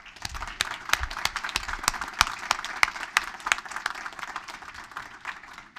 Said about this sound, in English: So please join me in giving them a round of applause.